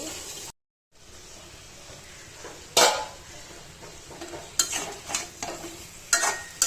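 Taro roots fry in a pan, a soft sizzle heard up close with a brief silence near the start, then several sharp scrapes and clinks of a spoon stirring against the pan.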